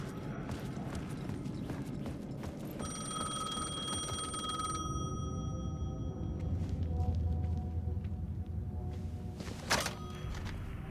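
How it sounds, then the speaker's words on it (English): An old payphone rings in Alan Wake 2, a steady electronic bell tone repeating over a low ambient rumble and scattered game sounds, moderately loud with no talk. "The payphone was ringing."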